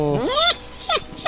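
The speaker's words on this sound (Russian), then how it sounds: "Ребят, это волки. Настоящие волки." A wolf at an animal shelter gives a high, rising whimper, followed after a short pause by a second, briefer whine, close and fairly loud.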